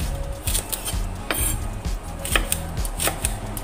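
Steady knife slicing okra on a cutting board, about a dozen crisp, regular chops with sharp clicky contacts, close and moderately loud.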